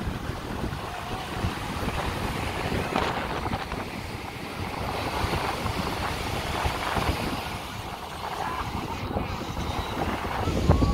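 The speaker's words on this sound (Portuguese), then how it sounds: "o vento aqui tá bastante forte" Heavy, continuous wind buffeting the microphone on the old pier at Praia de Iracema, Fortaleza, with low rumbling gusts, along with water and boat noise, steady for the whole stretch.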